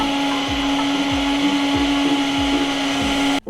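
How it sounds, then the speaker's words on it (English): A blender whirs steadily as it blends homemade almond milk with added vanilla, a loud continuous motor drone with a rhythmic pulsing churn, cutting off abruptly near the end. "Now I'm gonna blend again for another minute."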